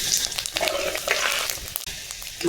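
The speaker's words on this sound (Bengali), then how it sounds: "বন্ধুরা দিলাম পাঁচফোড়ন" Panch phoron spices dropped into hot oil alongside dried red chillies, crackling and spitting loudly and close up in a busy, uneven sizzle, with occasional sharp pops and no voices.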